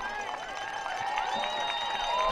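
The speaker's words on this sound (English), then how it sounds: "And a round of applause" Steady crowd noise of applause and cheering fills a youth football trophy ceremony at a 4th grade championship, with clapping and excited young voices blending together continuously at a fairly loud level.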